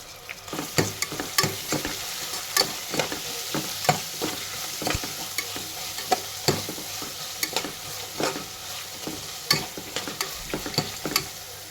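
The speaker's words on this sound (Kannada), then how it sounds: "ಇಲ್ಲೇ ಉಳ್ಳಾಗಡ್ಡಿ ಫ್ರೈ ಆದ್ವಿ ರೀ. ಇವಾಗ ಇದ್ರೊಳಗೆ ಟಮಾಟಿ ಮತ್ತು ಕೊತ್ತಂಬರಿ ಹಾಕೊಂಡ್ಬಿಡೋಣ ರೀ." Onions fry in a pan as tomato and coriander are added, with a low sizzle under repeated sharp scraping and clinking of a spoon against the pan, stirred in an irregular rhythm. No one speaks.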